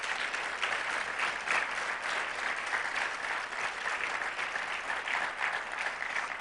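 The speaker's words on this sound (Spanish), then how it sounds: "Vamos a darle un aplauso al Señor" A church congregation applauds steadily for several seconds, a dense and even wash of clapping in a large room with no voices on top.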